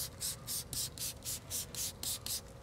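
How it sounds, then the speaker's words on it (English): A spray bottle of waterless car wash pumped onto a car in quick repeated bursts, about ten sharp hissing sprays in a steady rhythm, close by with a low background hum. "I can actually spray the whole front of the car with the waterless wash"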